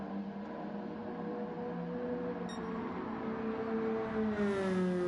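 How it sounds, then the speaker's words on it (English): Stock car engines race in a CASCAR Cup Series Grand Prix of Broadbean in Gran Turismo 7, a steady blended engine drone with whirring pitch lines that rise and shift as cars pass, continuous and moderately loud with no talk. "we will give you 10 uninterrupted laps just to hear these cars sing"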